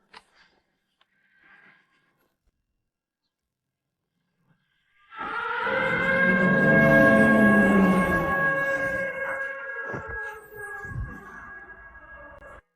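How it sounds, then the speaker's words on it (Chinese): A county's highest combat-readiness alert siren in an animated period drama starts abruptly after near silence, a loud sustained multi-tone wail that holds steady for several seconds, then fades with a few thuds and noises near the end. "这是咱们县的最高战备警报"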